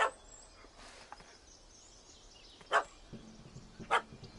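Dog barks in a video game, a few short sharp yaps spaced apart over a quiet background, fairly faint and distant-sounding.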